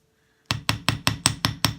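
After a short quiet lead-in, a chasing hammer gently taps the curve of a French ear wire flat: seven evenly spaced, crisp metal strikes, close up with no voices.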